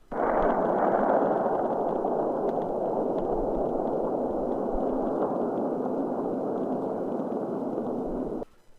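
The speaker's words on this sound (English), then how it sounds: "Batman was running to the exit where he could hear the distant rumble of explosions." A continuous deep, roaring rumble of distant explosions in the video game Arkham City, steady and loud for about eight seconds before cutting off abruptly.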